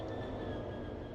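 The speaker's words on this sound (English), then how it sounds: "Nice mixture of locos there." Locomotives in a train simulation game rumble past, a steady low rail roar with faint high whine, quiet and continuous without talk.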